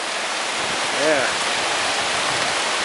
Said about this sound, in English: Getting rain.